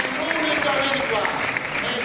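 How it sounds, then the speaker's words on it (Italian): Outdoor audience applause for Andrea Sbarra, first-place winner of the dialect section at a poetry event, a dense steady wash of clapping lasting the whole short stretch, with a voice faintly over it. "Applauso! Applauso ad Andrea!"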